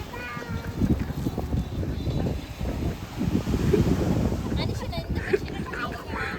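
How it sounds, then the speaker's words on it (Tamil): Wind blows at a beach, gusting as a broad rushing roar against the microphone with rising and falling strength, while people talk over it. "ஏன்னா காற்றும் அழகா அடிக்குதா, சூப்பராக இருக்கு"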